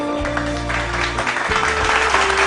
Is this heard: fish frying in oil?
no